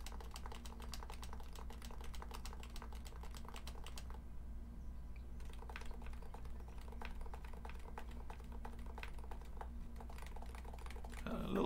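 Rapid, steady typing on a mechanical keyboard during a build that swaps Norbatouch domes, close and clear, with a short pause in the middle and a low steady hum underneath.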